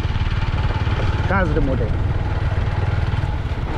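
A tractor engine chugs steadily at a rural farm spot in the Terai, a continuous low mid-range idle running throughout while someone speaks briefly over it.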